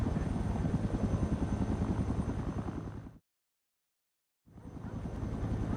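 A helicopter in the game Project Reality sets down precisely on a rooftop, its loud, steady rotor and engine drone filling the sound, cutting out to total silence for about a second before resuming just as strongly.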